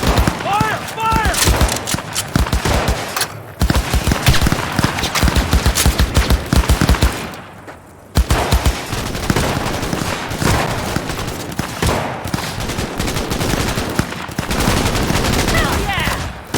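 Rapid bursts of automatic gunfire and scattered single shots ring out through a cutscene battle in the video game Cyberpunk 2077, loud and nearly continuous with a brief lull midway, while voices shout over the shooting.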